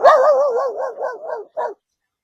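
A man imitates a dog barking with his voice, a wavering, wobbling howl-like bark followed by a short final yip, loud and close with nothing else around it.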